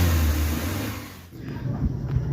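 A Suzuki Carry engine with a knocking fault, low power and vibration runs at a steady hum, dips briefly, then revs higher and louder, close by.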